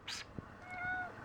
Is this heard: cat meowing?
yes